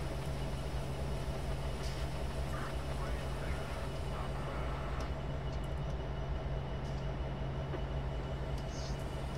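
A Southern Pacific SD70M locomotive hauling a long train over Donner Pass in Train Simulator 2015 gives a steady, continuous rumble and drone with a constant low hum throughout.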